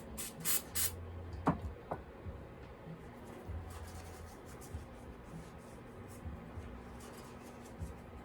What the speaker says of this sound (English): Spray them off real quick.